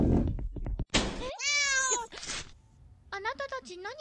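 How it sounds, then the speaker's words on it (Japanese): Cat meow from a school horror adventure game, a clear rising harmonic cry standing out between bursts of louder game sounds and a voice, followed by further short meow-like calls. "にゃーんって言って、ここから出てきた。"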